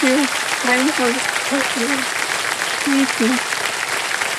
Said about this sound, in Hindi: एक बार जोरदार तालियों के साथ आपका